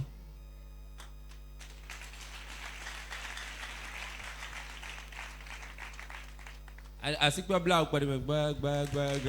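Church congregation giving timid applause, a light, steady patter of clapping under a constant low hum, followed by loud amplified speech near the end.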